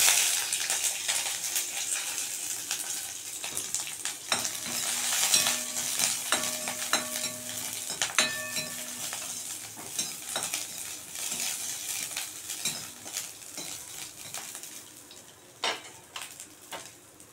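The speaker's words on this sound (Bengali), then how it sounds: "লঙ্কা আর পোস্তটা আমি ভাজবো এখন।" Poppy seeds and green chilies fry in about half a spoon of oil in a wok, a soft continuous sizzle with scattered stirring scrapes and clinks of a utensil against the pan, no talking.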